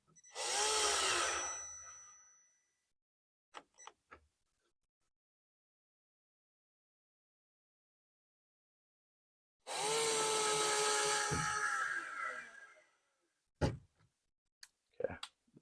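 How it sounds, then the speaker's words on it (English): A small Milwaukee drill driver drives screws into a wooden dresser in two whirring bursts of about two and three seconds, separated by quiet, with scattered clicks and knocks of handling between them. "So I'm going to take my Milwaukee here, my little drill driver, a little bit slower."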